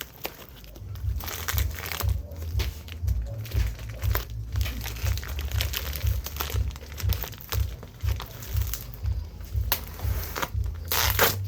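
Packaging sealed with lots of Scotch tape, wrapped around a shipped T-shirt, is torn and crumpled open at close range, giving continuous crinkling, crackling and ripping with rhythmic rustles throughout.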